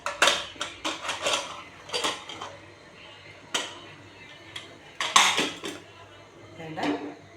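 Pressure cooker, its steam already released after four whistles, being opened: a series of sharp metallic clanks and clicks from the lid and pot, irregular and close, with quiet pauses between.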